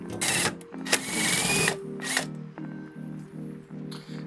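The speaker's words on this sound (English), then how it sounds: "use impact real quick, just to get them out faster." An impact wrench works loose the rear sway bar bushing bolts on a 2008 Toyota Camry Hybrid, with a few loud whirring bursts followed by a quieter rapid ratcheting hammer of repeated pulses, close up and with no talking.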